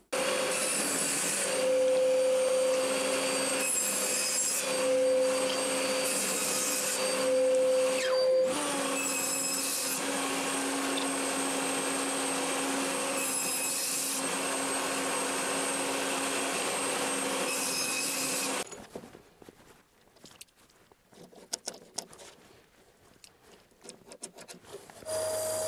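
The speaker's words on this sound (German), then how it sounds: "Jetzt sind alle Teile richtig zugesägt." Power saw cutting wood parts to size, a steady loud broadband whine running continuously with a few brief dips, then stopping abruptly, leaving scattered quieter clatter and handling noise.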